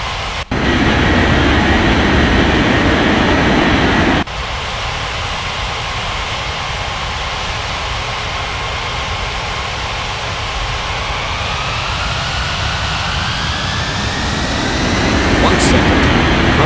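Airliner jet engines roar on takeoff in the air traffic control game Unmatched Air Traffic Control, a loud, sustained broadband rush that shifts partway through and swells again near the end.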